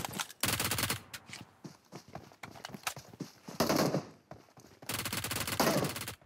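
Rapid bursts of automatic gunfire from a SCAR-L assault rifle in the mobile battle royale game PUBG Mobile, loud, dense volleys separated by brief pauses, with faint footstep-like clatter between.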